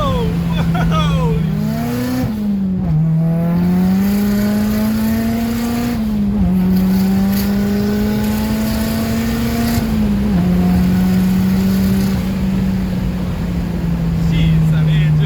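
A 375 hp Nissan Primera with an SR20VET engine and a limited-slip differential accelerates hard, its loud, steady engine note climbing and dipping through several rises in pitch over about fifteen seconds.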